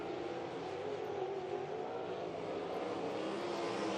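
360 sprint cars race around a dirt oval track, a continuous, steady engine roar from several cars heard at a distance without a break.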